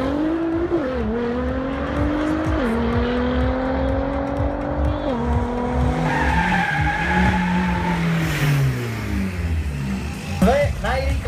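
Race cars tear past at the Powerfest Automax sprint event in Boľkovce, engines rising and shifting loudly through several gear changes, with tire noise and a second car howling by near the end; a voice talks faintly underneath.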